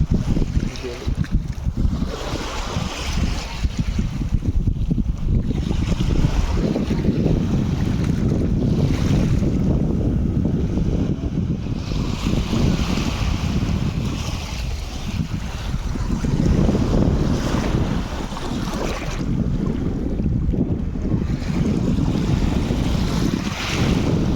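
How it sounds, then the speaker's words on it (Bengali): Wind-driven sea waves crash and wash up on a shore in continuous rolling surges, loud and close, with heavy wind buffeting the microphone throughout. "অনেক বাতাসের গতিতে ঢেউগুলো ভেসে আসতেছে, পায়ে আঘাত দিচ্ছে"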